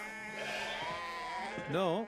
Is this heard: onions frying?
no